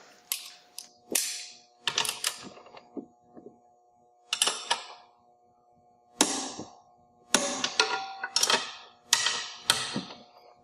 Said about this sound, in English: we're going to apply a torque of 35 foot-pound